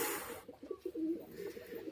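Soft, low coos from a restless, struggling Madras pigeon held in the hand murmur close by in short bursts, mixed with faint rustling and fluttering.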